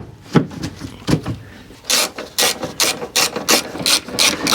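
Ratchet wrench clicking in quick repeated bursts, close and fairly loud, while parts are screwed back onto an Opel Agila during exhaust work; a few duller knocks come first, then steady rapid ratcheting strokes.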